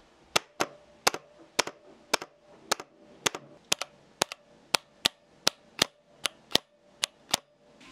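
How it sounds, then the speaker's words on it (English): Sharp, evenly spaced clacks of an EC switch on a Varmilo MA87 mechanical keyboard being pressed repeatedly, each with a faint springy ring, about two per second. "you can still hear some spring sound, especially when you test the spring sound like this"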